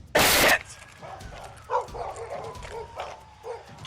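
A dog gives a sharp bark followed by several quieter yips and whimpers during a police standoff, heard at a distance.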